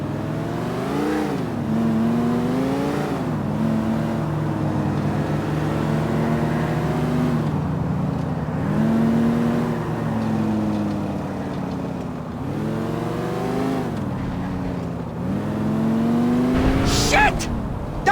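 Car in Grand Theft Auto IV driven recklessly, engine revving up and down through repeated gear changes with rising whines, close and loud, ending in a sharp impact; voices talk over it.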